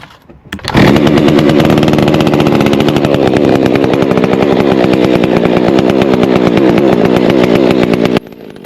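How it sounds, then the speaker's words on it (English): A two-stroke chainsaw cut for firewood rounds starts up and runs steadily at a loud, close idle, its rough buzzing drone holding constant for several seconds before dropping off near the end. "Typically this is how I warm up my saws."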